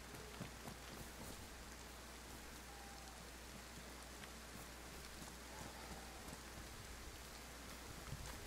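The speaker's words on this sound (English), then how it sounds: "it's raining." Steady rain pours down in the video game DayZ, a dense, even hiss that fills the whole stretch with no pauses or other sounds rising above it.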